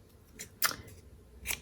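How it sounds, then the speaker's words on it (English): Scissors snip through a paper card in three crisp, close cuts spaced unevenly across the short stretch, each a sharp bright slice against a quiet background. "I'm actually going to trim this with my scissors."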